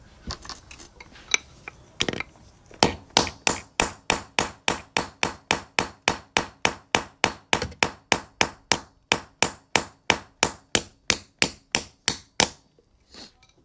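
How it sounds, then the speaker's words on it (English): A hole punch tool working a coin to put a half-inch hole in a quarter; a long run of evenly spaced sharp metallic strikes, about two per second, close and loud with no talk. "So we're just going to pop our quarter in there. This is going to put a 1/2 inch hole in it."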